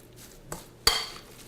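A fork works an egg into a quinoa and potato mixture in a bowl, two sharp metallic clinks against the dish, the second louder, with soft mushy stirring around them.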